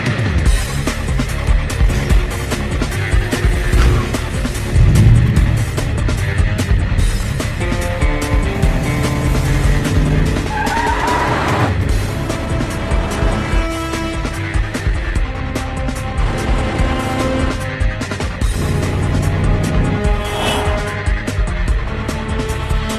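Cars roar through a chase scene in a Hindi-dubbed action film, engines and tire squeals loud and continuous over a dense bed of music and effects, with no speech.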